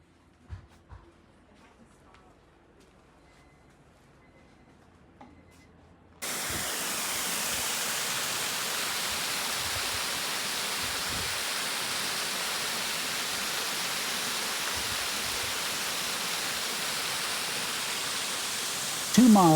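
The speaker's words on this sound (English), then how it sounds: "An actual waterfall in the middle of the desert." A desert waterfall at China Ranch on the Amargosa River Trail starts suddenly after a few quiet seconds, then pours as a loud, steady, unbroken roar of falling water close by.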